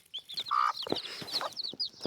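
A broody mini hen clucks and murmurs in low, throaty bursts, with high chirping chicks peeping around her close by.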